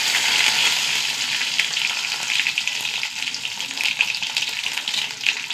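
Mustard seeds and dried red chillies sizzle steadily in hot oil, a bright continuous crackle with small pops and spits, close and loud throughout, with no talking.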